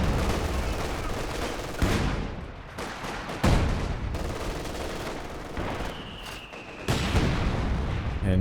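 An artillery barrage in Company of Heroes 2 arrives as a dense, continuous roar of explosions and gunfire, with several heavy booms rising out of the din.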